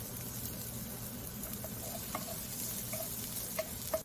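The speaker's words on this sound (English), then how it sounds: "Once mustard seed splatters, add onion and curry leaves together." Onion and curry leaves fry with popping mustard seeds in hot oil, giving a steady low crackle with scattered small pops and spits throughout, close and moderately quiet.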